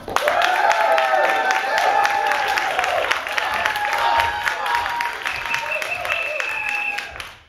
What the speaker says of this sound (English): So, by show of applause, how many people think the red team won?